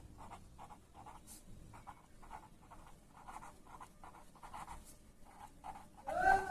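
Hand-writing numbers on paper during a maths lesson on large numbers: a close series of short scratchy pen strokes in quick bursts, with no one talking, ending in a louder rustle.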